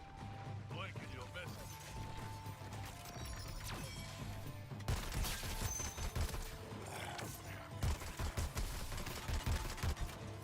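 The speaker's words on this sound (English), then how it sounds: "I like this shotgun" Shotgun fire in the Suicide Squad Kill the Justice League game, several sharp heavy blasts in the second half amid game effects and a voice talking over the action.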